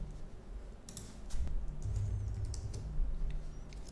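Rapid keystrokes on a computer keyboard, typing into a search box, heard up close as a quick irregular clatter of clicks with no talking.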